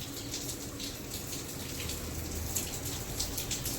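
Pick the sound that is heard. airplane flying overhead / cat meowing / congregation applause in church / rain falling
rain falling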